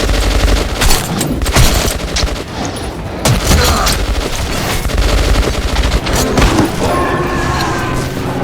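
Dense gunfire in the video game Metro 2033 Redux, rapid overlapping bursts and single shots crackling loud and continuous with heavy impacts throughout.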